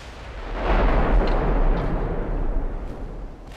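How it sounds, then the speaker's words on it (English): Naval guns fire in the warship battle game Ultimate Admiral Dreadnoughts, a heavy booming salvo that swells into a long rumbling roar, with fainter distant thuds trailing off afterward. "Who has started firing at us again."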